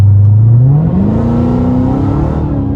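A 707 hp Dodge Challenger Hellcat Widebody at full throttle, its engine note climbing steadily in a loud, close rising roar with a supercharger whine as the revs build.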